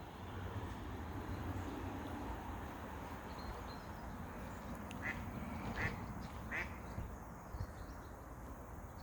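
Wild ducks at a natural pond in summer let out a few faint, distant quacks over a steady outdoor rumble of wind and ambient noise, with no voices.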